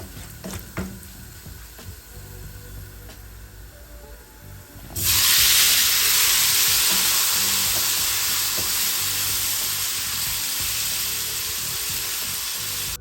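Chopped tomatoes hitting hot oil with golden-browned garlic and turmeric; light clinks and stirring at first, then a sudden loud, sustained hiss of sizzling that slowly eases, close by and without talk.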